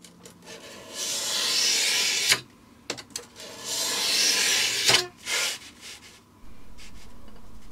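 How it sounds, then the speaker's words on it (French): Utility knife cutting through PVC sheets for an enclosure, heard as two sustained rasping scrapes of blade on plastic, each a couple of seconds long, separated by short sharp clicks and handling knocks, close and fairly quiet. "Là je découpe les plaques de PVC qui vont servir d'enveloppe au boîtier. Bon, ça se coupe très bien au cutter"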